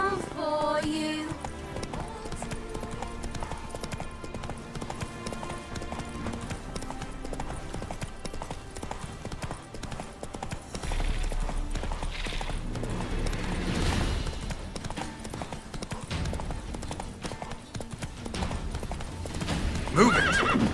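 Roach, the horse in The Witcher 3, gallops with steady clip-clop hoofbeats and lets out loud neighs and whinnies, set over a continuous game music score with no speech.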